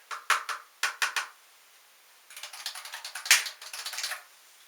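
A computer keyboard clicks close up in short bursts: a few separate keystrokes, a pause, then a faster run of typing. No voices.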